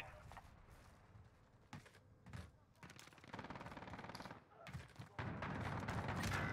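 Bursts of gunfire in the video game Warzone, with sharp shots and rapid volleys at varied distances, growing denser and louder toward the end over the player's talk.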